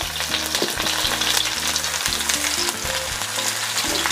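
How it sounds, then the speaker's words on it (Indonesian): Thinly sliced garlic sizzles steadily in hot oil as it is stir-fried for spicy sweet soy tempeh, a close, continuous fry with scraping utensil knocks throughout. "Saya tumis dulu bawang putih yang sudah diiris tipis ya."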